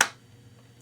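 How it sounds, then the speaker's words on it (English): A single sharp hand clap marks a quarter note, a brief crisp snap right at the start that decays quickly into quiet room tone with a faint low hum. "its rhythm is clapped like this"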